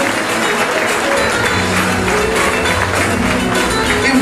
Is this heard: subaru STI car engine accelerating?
no